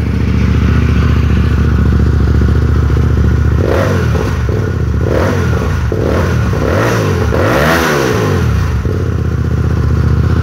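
A motorcycle fitted with a WR exhaust idles roughly, then revs up sharply several times with loud, throaty exhaust bursts before settling back.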